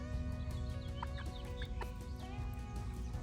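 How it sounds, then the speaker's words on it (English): Hens in a backyard flock cluck and call steadily near at hand, a soft continuous farmyard murmur with a few sharper chirps rising above it; no talking. "Hello, chickens."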